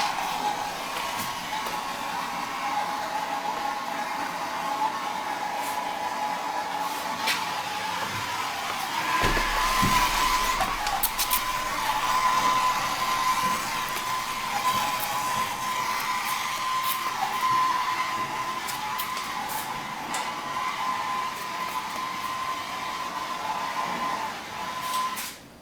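Gas burners on a top hat kiln roar steadily with a broad hissing rush and a faint tonal whine, swelling louder for a few seconds midway, with no talk.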